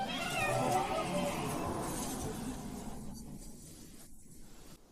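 A cat gives a loud, drawn-out, wailing meow that trails off and fades over a few seconds, heard close with no other sounds.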